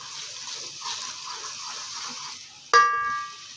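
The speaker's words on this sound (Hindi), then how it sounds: "सूजी डालेंगे और इसकी अच्छी तरह बुनाई करेंगे" Semolina roasting in a pan for suji halwa, stirred with a wooden spoon: a steady soft hiss and scraping run throughout, then a sharper clatter and brighter sizzle near the end.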